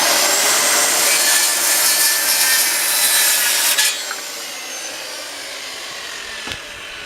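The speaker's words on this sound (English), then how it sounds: "Skill saw." A Skil circular saw cuts wooden boards for a raised garden bed, roaring loud and steady for about four seconds before the blade spins down and the noise drops to a quieter whir with a brief knock near the end.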